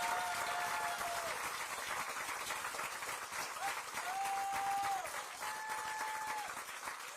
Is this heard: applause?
yes